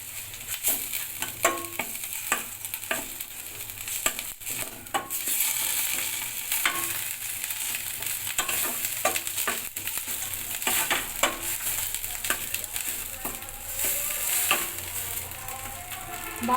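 Green chilli, ginger paste and spices fry in a pan, sizzling steadily under repeated close scraping stirs of a spatula, with no voices present.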